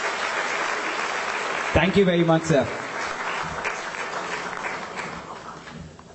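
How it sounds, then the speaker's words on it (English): Loud, steady applause from an audience at a corporate excellence awards ceremony, continuing throughout while someone speaks briefly over it, then slowly tapering off near the end. "Can we have a thunderous round of applause for that beautiful opening?"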